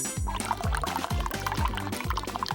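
Special glue pours into a toy slime machine with a soft, continuous liquid trickle, heard up close over a busy background of repeated low thumps.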